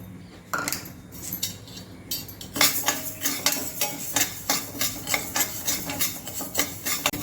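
Puffed rice and moong dal roasting in a pan, with a spatula scraping and clinking against the metal in a quick regular rhythm. The sound is close and grows busier after a quieter start.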